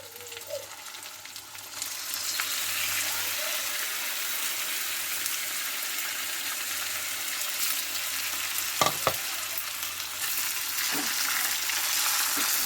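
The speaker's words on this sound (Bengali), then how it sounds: "এবার ম্যারিনেট করে রাখা চিকেনটা দিয়ে দিচ্ছি তেলের মধ্যে" Marinated chicken for biryani hitting hot oil with browned onions, a steady loud sizzle that swells after a couple of seconds, with a few scraping stirs and light knocks over the constant frying hiss.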